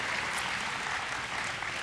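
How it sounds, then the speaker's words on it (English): Dense, continuous applause from a crowd at a commencement ceremony, steady and loud throughout. "So let's give them a round of applause."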